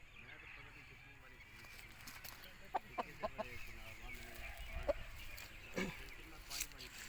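An Aseel rooster, a long-tailed white fighting bird, gives scattered soft clucks close by, with someone talking over them.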